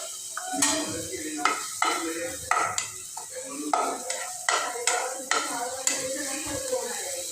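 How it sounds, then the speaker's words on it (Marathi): Ground green chili and garlic are sautéed in a pan for a fenugreek-leaf vegetable dish, a utensil scraping and stirring in regular strokes over a soft sizzle, close and clear. "ही मिरची लसूण परतून घ्यायचं"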